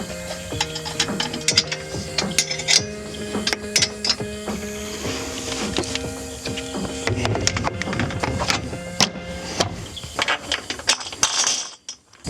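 A ratchet clicks rapidly and steadily while bolts are tightened down on a Sherpa roof rack fitted with stacked thick washers. The close metallic clicking comes in repeated runs with short pauses and a few sharper knocks near the end.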